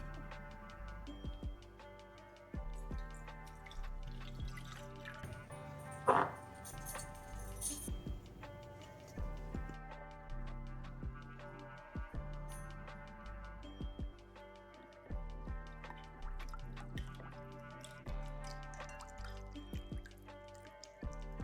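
Flatbread ingredients, including water and yeast, added in a home kitchen: faint drips, soft clinks and taps with one brief pouring splash, all quiet and scattered.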